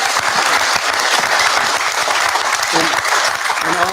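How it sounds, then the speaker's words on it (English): An audience bursts into loud, dense applause at a live show, steady clapping filling the room with a faint voice briefly audible near the end. "Let's get a round of applause for these delicious brains."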